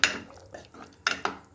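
A spoon scrapes and knocks against a cooking pot while mutton gravy is stirred, a few short clinks and scrapes, fairly quiet and close.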